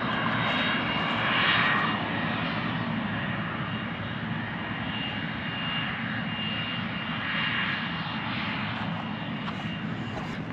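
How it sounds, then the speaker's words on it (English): A TA-4 Skyhawk jet engine roars steadily and loudly throughout, a continuous broadband rumble with a high whine rising and falling slightly. "That's an A4 Skyhawk. That's a TA4 Skyhawk."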